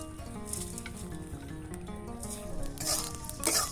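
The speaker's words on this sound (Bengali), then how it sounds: "ধনে, জিরে, লঙ্কা, ওই সর্ষে, এইগুলো যা আছে সবগুলো আমি ভেজে নিচ্ছি।" Coriander, cumin, dried chili and mustard seeds fry in a wok with a continuous crackling sizzle and light stirring, close and moderately loud, with no talk.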